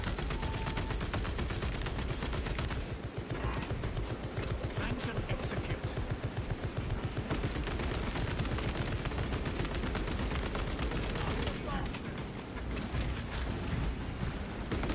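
Techmarine turrets firing in Space Marine 2 as a relentless, loud stream of rapid gunfire with heavy booms and mechanical clatter, unbroken for the whole stretch and mixed with other battle noise.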